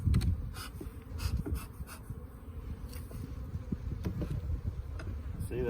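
Honeybees swarm and buzz around an open hive during a spring inspection, a dense, steady droning hum with individual bees flicking past close by, no voices.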